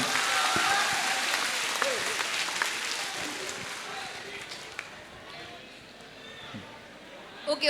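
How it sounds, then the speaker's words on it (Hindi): Audience applause at a motivational session for JEE/NEET students, a dense wash of clapping that starts loud and gradually thins and fades, with some voices mixed in. "एक बार जोरदार तालियां बजा दें इस प्रश्न के बाद।"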